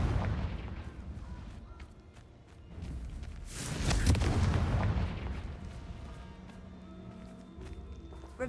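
A magical Confringo explosion spell goes off in Hogwarts Legacy as one loud, booming burst that swells and rolls off over a couple of seconds, with quieter game ambience before and after.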